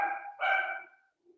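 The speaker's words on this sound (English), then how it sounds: "You can probably hear my ferocious dogs guarding outside." A dog barks outdoors at some distance, two short harsh barks in quick succession followed by a faint trailing yip.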